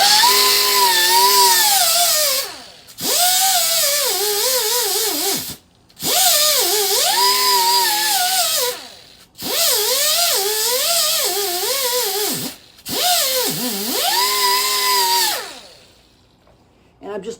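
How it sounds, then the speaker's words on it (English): Angle grinder smoothing a weld on a car's rear suspension bracket during a RideTech StreetGRIP install, running in five bursts of high whining grind that dip and waver in pitch as it bites, with short pauses between, loud and close. "let's just do a little grinding here of this weld"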